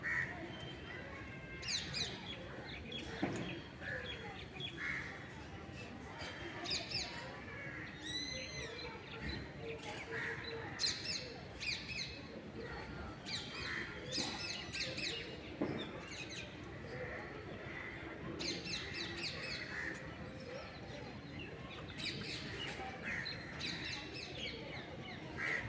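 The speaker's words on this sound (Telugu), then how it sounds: "పావురాలతో సహా ఇంకా గ్రద్దలు, కాకులు, రకరకాల పిట్టలు అన్నీ కూడా వస్తుంటాయి, చేరుతుంటాయి" Pigeons, crows, kites and assorted small birds call, coo and squawk faintly around a rooftop terrace garden, with scattered chirps and caws over a soft, continuous background.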